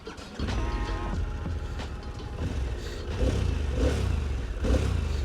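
Harley-Davidson Pan America V-twin motorcycle engine running, a low rattly throb with a rough agricultural edge, swelling in a few revs and staying close and steady throughout.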